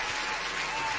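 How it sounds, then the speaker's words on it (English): Crowd applause plays in the background, a brief, steady wash of clapping at moderate level. "I would like to welcome you guys again with a huge applause from the crowd in the background here."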